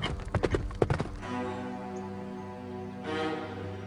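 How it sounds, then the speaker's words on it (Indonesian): A horse gallops with a rapid flurry of hoofbeats that ends after about a second, followed by a lingering sustained tonal bed of background music. "Naik kudanya seperti kesetanan."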